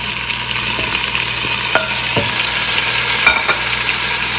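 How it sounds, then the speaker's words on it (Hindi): Tomatoes fry in a pan for daal makhani with a loud, steady sizzle and several brief spatula taps and scrapes as they are stirred; no voices. "इस टमाटर को थोड़ा सा भूनेंगे।"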